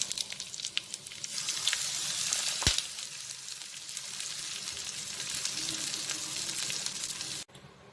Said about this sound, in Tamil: கடுகு வெடிச்சிட்டு இருக்கு